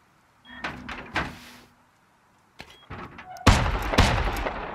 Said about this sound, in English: He doesn't remember where he put his shotgun traps and he don't know why they're going off.